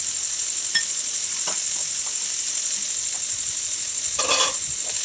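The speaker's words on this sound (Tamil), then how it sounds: "கட் பண்ணி வச்சுருக்க வெங்காயத்தை போடுவோம். போட்டு அது நல்லா வதங்கட்டும்." Chopped onions sauté in a pan for bread upma, giving a steady close sizzle with light stirring scrapes and a brief louder burst of frying near the end.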